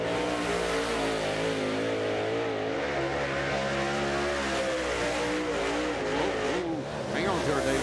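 A race car laps Eldora Speedway's dirt track in qualifying, its engine roaring loud and continuous with rising and falling revs through the corners, while an announcer talks over it.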